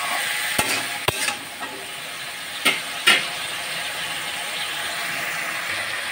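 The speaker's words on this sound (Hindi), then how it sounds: "और प्याज के साथ अच्छी तरह से मूंगा फली को बैगन को फ्राई कर लूंगी। तेज आंच में ही फ्राई करूंगी" Moringa drumsticks and brinjal fry with onion in a pan over high heat, a constant hissing sizzle broken by a few sharp utensil clinks and scrapes, close and without talk.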